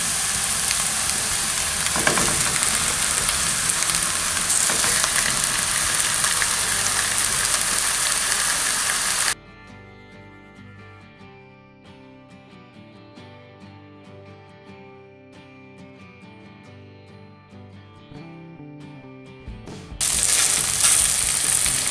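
Pork chops sizzle steadily in a pan with softened onion, a loud continuous frying hiss that gives way to soft music for about ten seconds before the sizzling returns.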